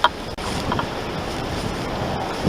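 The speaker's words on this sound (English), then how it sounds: "Very windy, my target is blowing down." Strong wind blows steadily outdoors at a pistol shooting range, a continuous broad rushing roar with no speech.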